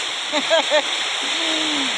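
Water flows freely through a drain during wind and rain, a continuous loud hiss of rushing water. A person's voice speaks briefly over it.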